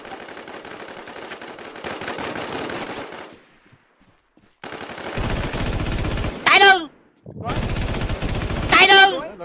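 Machine gun fire in the video game Infestation, loud rapid automatic bursts that stop during a near-silent pause, then resume in two more sustained bursts, each ending with a short sweeping effect.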